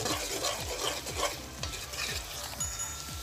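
Chopped garlic and ginger fry in a pan, a steady close sizzle broken by rhythmic scraping strokes of a spoon roughly every half second, with no voices.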